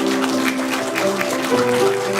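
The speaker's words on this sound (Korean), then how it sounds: "우리 큰 박수로 함께 해주시면 감사하겠습니다" Applause in a church congregation as a group turns to bow, clapping blended with steady organ or keyboard chords that sound throughout, moderately loud.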